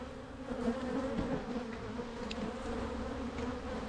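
Honey bees hum steadily at a troubled hive colony holding only drone brood, a soft continuous buzz close by with no voices.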